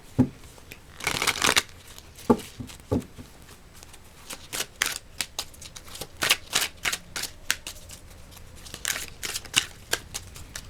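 Oracle deck of advice cards being shuffled and handled, a run of crisp papery riffles and flicks in quick bursts, close and fairly quiet, with no voices.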